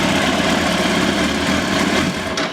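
Motorcycle with a faulty GM ignition switch, engine running in a steady loud rumble and vibration that fades out abruptly near the end.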